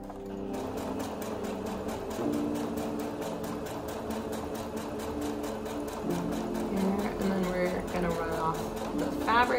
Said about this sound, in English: So I'm just gently guiding the fabric along the curve, keeping the fabric on that 5/8 line on my machine the whole time.